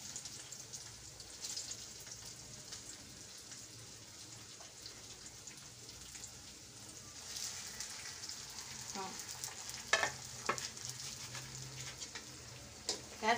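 Fish fries in hot oil in a kadai with a constant crackling, rain-like sizzle close up, broken near the end by a few sharper pops and clinks.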